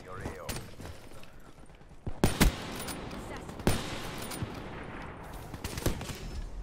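Sniper gunfire in a video game, a few sharp loud shots and cracks over busy game noise and background sound, with a player's voice talking over parts of it.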